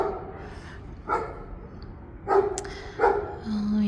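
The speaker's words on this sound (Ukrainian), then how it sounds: "собака не гавкай" A dog gives three short barks at a steady spacing, fairly close and moderately loud over a quiet indoor room, with a faint hum trailing off at the end.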